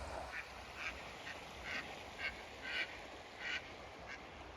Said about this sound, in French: regarde les canards.